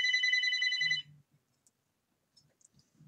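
A telephone rings loudly in a rapid trilling burst for about a second, then stops, leaving a quiet room with faint low bumps and clicks.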